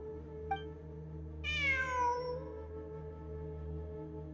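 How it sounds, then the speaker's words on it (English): A single clear cat meow rises and trails off in Genshin Impact's Ruins Exploration event, heard alone over a steady low ambient hum after a faint earlier chirp. "I'm not hearing things. It really is a cat."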